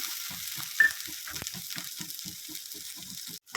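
Shallots, ginger and garlic fry in a little oil for a chicken dish, giving a steady soft sizzle with a regular, quick rhythm of stirring strokes through the pan, close and moderately loud.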